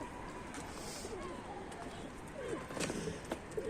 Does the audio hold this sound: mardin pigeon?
yes